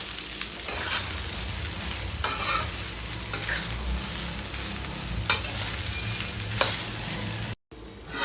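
Sabudana khichdi cooks over a slow flame with a constant soft sizzle while a spatula scrapes and stirs the pan in irregular strokes, fairly close, with no voices.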